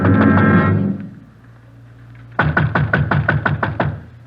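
Police officers pound on a front door in a radio crime drama, a rapid series of about nine loud knocks right after a fading voice.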